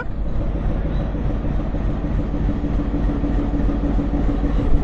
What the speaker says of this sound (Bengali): ফাইনালি আমাদের ট্রেনটা চলে আসলো